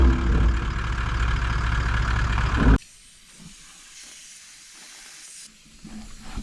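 Air rushes loudly from a 100 series 4WD's tyre as pressure is let down on a Cape York track, a strong steady hiss that cuts off abruptly after a few seconds, leaving a fainter hiss and low background hum.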